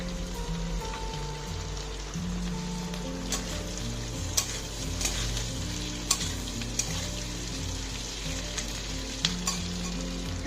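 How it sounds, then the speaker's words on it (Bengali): Red capsicum crackles and sizzles in hot oil in a pan for a chicken Manchurian and fried rice dish, with a steady hiss, scattered sharp pops and a low hum from a kitchen appliance underneath. "খুব বেশিক্ষণ তেলের মধ্যে নাড়াচাড়া করা দরকার নেই। এখন আমি লাল ক্যাপসিকামটা দিয়ে দিচ্ছি"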